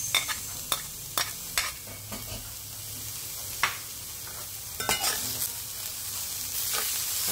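Garlic and onion sauté in a pan with a continuous frying sizzle, broken by scattered sharp clicks and scrapes as the utensil stirs, with no one speaking.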